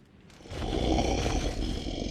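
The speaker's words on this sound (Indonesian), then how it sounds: "Lalu beberapa harimau mendatangi Yuji yang sedang berada di hutan." Tigers in a forest give a low rumbling roar that swells up after a quiet start and holds, fairly faint and drawn out, with no other sounds over it.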